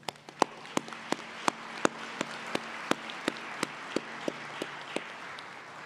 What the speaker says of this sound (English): please join me in applauding the family, the friends, the mentors who have been your support system